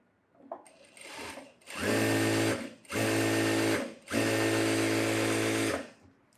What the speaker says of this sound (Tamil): லைனிங் எடுத்து விட்டுட்டு ஓரத்தில் ஒரு எஜ்ஜு தையல்